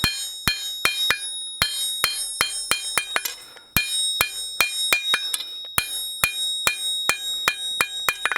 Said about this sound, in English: we bring the piece to the edge of the anvil and start to hammer on the edge and roll it down